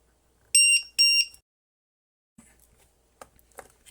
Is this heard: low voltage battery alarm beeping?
yes